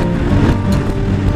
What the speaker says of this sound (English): You can hear that distinct roar from that Akrapovic exhaust of his on his R6.